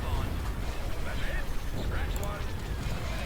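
Ion cannon and ion torpedoes firing in a space battle in Star Wars Empire at War, loud rumbling blasts and bursts layered over dense combat noise, with a voice talking throughout.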